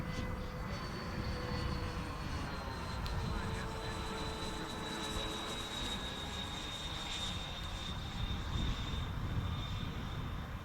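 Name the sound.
RBC Kits Skyray F4D RC model aircraft flying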